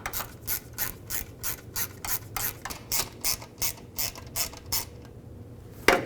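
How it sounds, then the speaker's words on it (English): Plastic push clips on a 2008-2010 Ford F-250 fog light get threaded in, giving a run of rapid, regular ratcheting clicks and rubbing scrapes, close and fairly loud, with no talk. "Take the center of those push clips, push it in, and now we'll just thread it in all the way."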